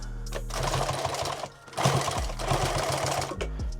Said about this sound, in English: Sewing backwards through thick stuff's where you're going to knock that machine out of time.